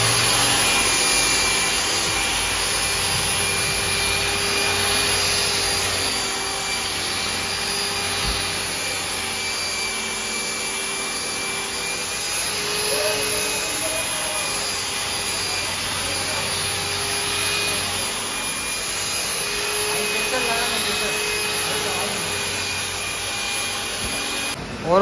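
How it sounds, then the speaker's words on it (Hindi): A polishing grinder runs steadily on a car bumper, a continuous whirring, rubbing drone heard close up for the whole stretch with no break and no talk. "ग्रिंडर लगाए, बम्पर तो साइकिल पॉलिश होंगे। ये ग्रिंडर का नमूना है"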